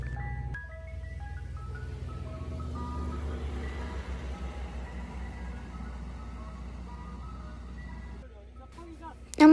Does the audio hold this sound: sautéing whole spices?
no